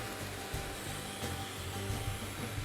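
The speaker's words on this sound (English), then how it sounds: "I'll try giving shape to the backside with a belt sander." A belt sander shapes the back of a wooden handle, a faint steady whirring hum with light grinding, running without pause and with no speech.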